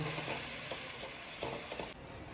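Mustard seeds, lentils, a large onion, green chillies, curry leaves and grated beetroot sauté in a hot pan, giving a dense, steady sizzle with a few soft stirring scrapes. The sizzle is close, brief and free of voices.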